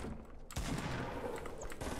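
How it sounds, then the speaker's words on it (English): Gunfire in the Fortnite Battle Royale video game, a dense burst of rapid shots that breaks in about half a second into the clip and keeps rattling loudly and continuously to the end, with no talking over it. "I hear gunfire, guys, but I don't know where it's coming from."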